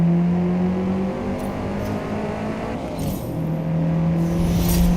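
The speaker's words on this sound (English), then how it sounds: "The sound my engine makes." A car engine in a Forza racing video game drones steadily and loudly, holding a constant hum with slight shifts in pitch, and no voices are heard.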